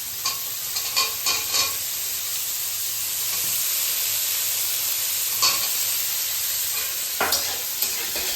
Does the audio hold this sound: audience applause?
no